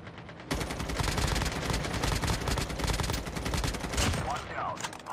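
A dense, sustained stream of rapid automatic gunfire from Call of Duty Mobile starts abruptly and runs for several seconds, close and loud, with overlapping bursts before it thins out near the end.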